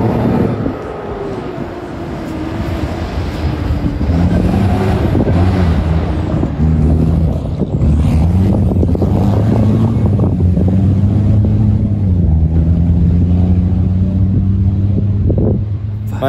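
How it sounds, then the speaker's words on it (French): Dakar 2023 rally trucks race past in the desert, a loud roaring engine drone that rises and shifts pitch as they go by, with people talking over it. "Oh là, par contre ça fait des bruits de camion quoi."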